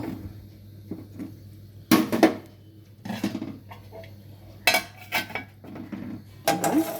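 Clattering metal knocks of a pot and lid while a curry of mixed vegetables simmers in a home kitchen, coming in a few distinct bursts with quiet gaps between them, close and fairly loud.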